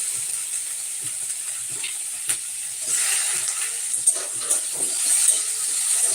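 Boiled potatoes fry with a steady sizzle, with occasional stirring scrapes and soft clinks, close by and continuous, no voices.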